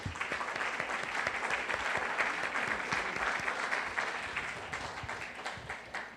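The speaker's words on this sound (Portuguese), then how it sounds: "Então vamos aplaudir o Deus vivo." A church congregation applauds at a Sunday service, sustained mid-level clapping from many hands with a roomy, slightly distant sound, fading a little toward the end.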